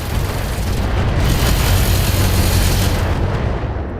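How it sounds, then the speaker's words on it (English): Heavy particle cannons fire in a mech video game, a sustained loud, booming barrage of deep rumbling blasts that rolls on without pause for several seconds, with no talking over it. "And then I hear those, like, heavy particle cannons going off."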